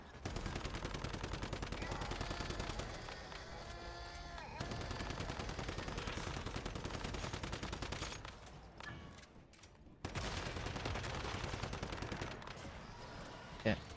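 Automated turret in the video game Once Human firing in steady rapid bursts, loud and continuous for most of the stretch, with a brief lull near the middle before the fire resumes.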